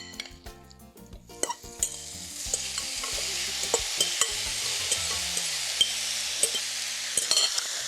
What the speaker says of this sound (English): We're going to go ahead and add our tofu mixture